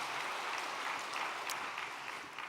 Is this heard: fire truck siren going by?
no